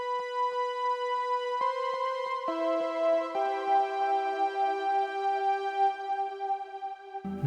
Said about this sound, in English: So the brass pad sounds like this.